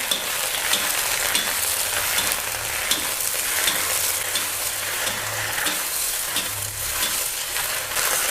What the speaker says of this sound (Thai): น้ำมันร้อนจะจัดได้ที่ ดอกแครค่ะลงไป ผัดให้ดอกแครสลดนะคะ